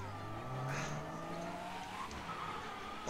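Car in Mafia Definitive Edition skidding, with a low, faint engine drone and a thin tire squeal running steadily for a few seconds, without speech.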